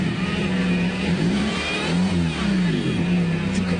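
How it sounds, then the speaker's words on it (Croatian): A new petrol car engine runs and revs close by, a steady mid-pitched drone rising and falling in pitch with throttle, loud and continuous, with a faint voice in the background. "ovako benzin pali."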